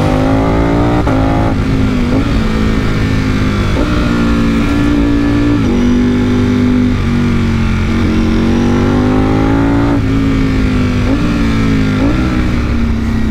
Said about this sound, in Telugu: ఈ బైక్ డ్రైవ్ చేస్తుంటే